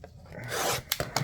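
Gloves being pulled on before handling chrome trading cards, a brief close rubbing and stretching rasp with a couple of soft snaps at the end, quiet and without talk.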